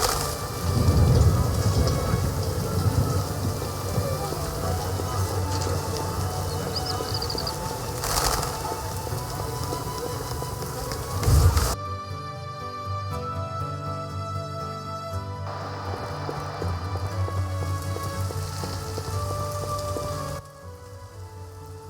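Steady rain patters on surfaces as a dense hiss with low rumble beneath, carrying on for around twelve seconds before the scene shifts to a different, more tonal background that continues to the end.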